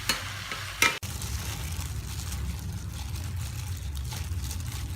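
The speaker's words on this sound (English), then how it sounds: "After stir frying the chicken meat, now we mix everything" Chicken meat stir-fries in a pan for spring roll filling, a steady sizzle with a few sharp clatters of a utensil near the start.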